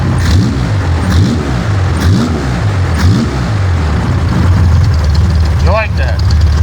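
Car engine revving in repeated pulses with a crisp exhaust note through mufflers, fairly close and loud, with people talking over it.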